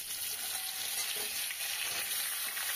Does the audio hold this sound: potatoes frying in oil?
yes